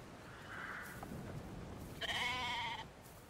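A single clear sheep bleat rises over soft ambient background in the game Brothers: A Tale of Two Sons, preceded by a fainter, muffled call.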